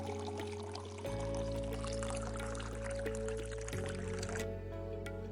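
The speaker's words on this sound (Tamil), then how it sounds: "இப்போ நாம் வாழைக்காவை பச்சை தண்ணியில் போட்டு நல்லா கழுவி எடுத்துக்கலாம்." Water pouring and splashing into a vessel while cut raw plantains are washed in a kitchen, a continuous liquid gush with shifting tone, close and fairly loud.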